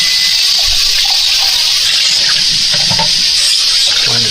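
Hot water pours steadily and loudly in a continuous close gush into packet mashed potatoes in a home kitchen, with no talk over it.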